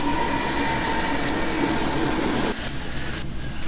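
Penn Central GP38-2 and GP30 model locomotives on a DC layout roll by on a caboose hop with a continuous electric motor whine and wheel rumble that cuts off abruptly near the end.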